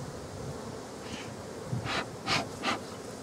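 Honey bees buzz around a beehive frame in a garden apiary, a soft steady hum with a few louder close passes near the end, no talking.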